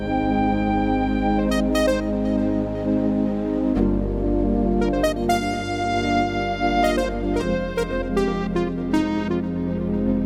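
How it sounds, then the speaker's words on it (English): Sustained electronic keyboard chords hold and shift slowly, with brighter melodic notes chiming on top, loud and continuous without talking. "the chords are going to sustain even when I lift the keys, and it sounds something like this"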